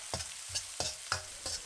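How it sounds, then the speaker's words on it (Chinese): Chopped scallion, garlic and ginger hit hot rapeseed oil in a wok, giving a close sizzle with several sharp stirring scrapes in an irregular rhythm, and no voices. "锅中咱们少来点菜籽油，把料头下锅给它爆个香。"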